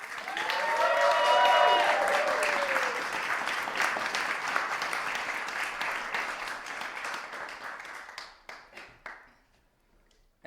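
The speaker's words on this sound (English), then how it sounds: "one more round of applause for Garmin" An audience in a small performance room gives a round of applause for Garmin, dense clapping with a few cheers at first, holding steady then thinning to scattered individual claps before dying away.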